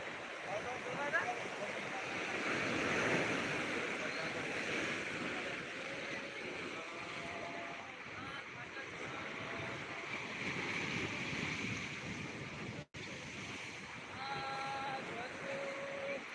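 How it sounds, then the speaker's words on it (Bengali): Turbulent sea surf pounding Digha beach at a full-moon spring high tide, a loud continuous roar of breaking waves with strong wind buffeting the microphone, steady with slight swells in intensity. "উত্তাল জলোচ্ছ্বাস পূর্ণিমার কোটালে খেপে রয়েছে দীঘার সমুদ্র সৈকত"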